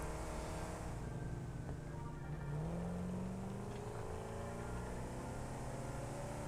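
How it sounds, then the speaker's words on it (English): Truck driving up a gentle incline in the factory-building game Satisfactory, a steady droning engine with a rising tonal whine partway through, continuous and alone without talk. "I think the truck will be okay to get up here."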